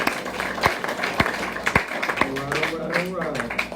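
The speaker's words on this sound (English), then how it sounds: "Let's give Anthony a round of applause" Applause at a speaker meeting, with several loud claps standing out over steady voices and crowd chatter, and talk continuing underneath throughout.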